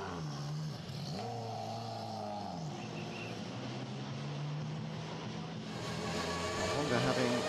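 Castrol Honda factory touring cars in the WTCC at Shanghai heading out to the grid, their engines droning steadily at a distance beneath continuous commentary.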